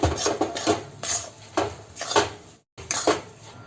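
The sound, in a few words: stirring Mohanthal halwa in a hot kadhai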